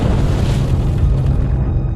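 A massive blast from 20,000 pounds of explosives going off at once, a loud deep rumbling roar that fills the whole clip and fades slightly at the end, with no talk.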